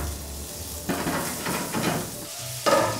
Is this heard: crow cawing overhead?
no